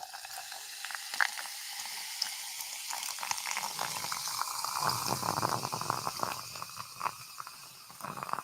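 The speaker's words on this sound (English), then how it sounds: "Let's pour it." Liquid pours steadily for several seconds, a soft continuous splashing and trickling that swells in the middle and tapers off, close by with no talking.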